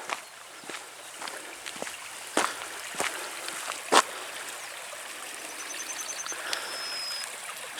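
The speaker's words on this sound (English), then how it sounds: "Nice flow of water there." A stream of water flows through a field in a steady trickling babble, mixed with scattered crunching footsteps and a few sharp knocks as someone walks beside it, with faint birdsong near the end.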